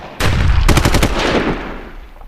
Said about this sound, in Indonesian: Namun tentu tak berapa lama terdengar bunyi tembakan.